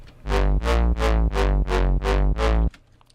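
A gritty, distorted FM8 halftime synth bass plays seven evenly spaced, sustained notes in a steady rhythm, loud and buzzy, then cuts off.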